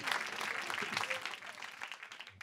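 A short burst of audience applause at a private concert, dense clapping and crowd noise that gradually thins out, with some voices mixed in.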